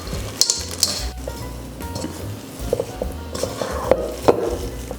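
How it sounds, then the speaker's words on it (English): Chocolate chips being mixed into homemade cookie batter with a spatula or spoon, producing soft thick stirring with intermittent sharp clinks and scrapes against the bowl, close up and without talk. "You can just use a spatula or a spoon, and you're gonna go ahead and mix the chocolate chips into the batter"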